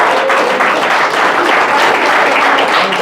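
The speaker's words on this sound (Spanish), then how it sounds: "dale fuerte aplauso al Señor." Church congregation applauding strongly during a sermon, a dense, steady wash of clapping hands that fills the whole moment without a break.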